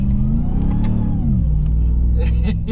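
A RAM TRX pickup truck's engine revs hard while climbing a canyon road, a loud, close mid-pitched roar rising and falling in pitch, with a voice briefly heard over it.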